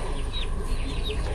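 Five-week-old country chickens at a rural poultry distribution cluck and chirp softly in a continuous flock murmur, with a few brief higher calls.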